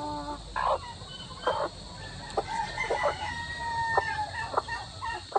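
An upgraded native chicken, a heritage breed crossed with asil, crows over a farmyard as other fowl cluck and call in short bursts nearby, with steady background noise throughout.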